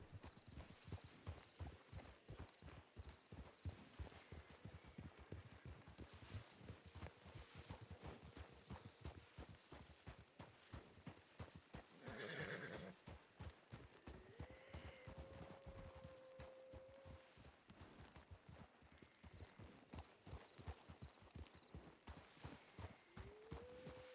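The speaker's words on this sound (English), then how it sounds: "Oh, wild horses." A herd of wild horses galloping in a video game, a long, dense drumming of hooves at moderate volume with a few distant neighs and whinnies rising over the running.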